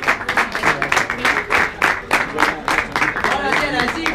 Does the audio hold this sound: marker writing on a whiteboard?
no